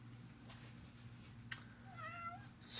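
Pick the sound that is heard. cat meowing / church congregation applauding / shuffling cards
cat meowing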